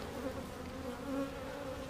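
Honey bees buzz steadily during a beehive inspection, a soft continuous hum of many insects close by with no talk over it.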